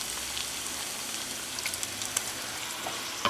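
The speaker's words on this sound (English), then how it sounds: "Now I'm going to add my tomatoes, crushed tomato sauce." Crushed tomato sauce hitting a hot pan where beef short ribs have browned, giving a steady close sizzle with a few soft stirring clicks near the end, no talking.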